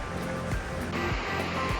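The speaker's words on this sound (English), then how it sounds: "Here is a view of Davis Creek Falls. The water actually starts up here, cascades down all the way." Davis Creek Falls, a mountain waterfall in the Blue Ridge of Georgia and North Carolina, cascading down rock, a dense steady rush of water with a few faint rhythmic thumps.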